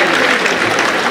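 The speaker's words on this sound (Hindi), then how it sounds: "एक बार जोरदार तालियां अपने लिए बजाइए" A crowd at a ghazal recital at BHU bursts into loud, dense applause, with many hands clapping together in a brief, sustained wash of sound.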